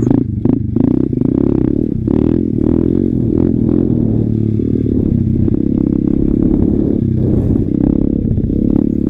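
A motorcycle rides over a bumpy mowed field, its engine rumbling loudly and steadily up close with clattering and knocking from the rough ground throughout.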